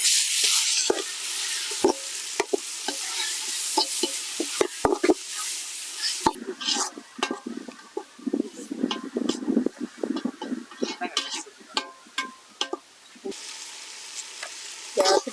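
Chopped tomatoes with finely cut ginger and garlic sizzle steadily in a hot pan while a spoon stirs and scrapes through them, close and fairly quiet, with a loud hiss of frying at the start.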